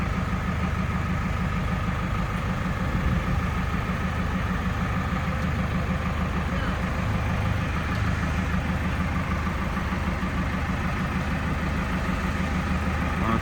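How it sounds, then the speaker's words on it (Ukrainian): A new Basak 2090 tractor engine idles steadily with an even, continuous diesel rumble, close and unbroken throughout. "До нас приїхав тракторець 2090."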